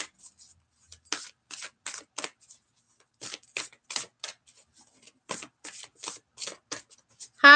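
Oracle cards shuffled by hand in short bursts of dry, crisp flicking with brief quiet gaps between them, close and moderately loud, with a short tonal sound at the very end.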